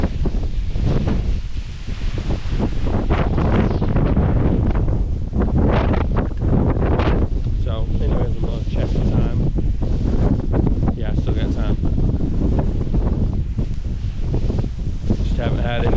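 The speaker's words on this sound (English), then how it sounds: "This is intense hunt, so windy." Gusty wind blasts across a duck hunting marsh in a sustained, loud roar with heavy microphone buffeting, while someone talks underneath.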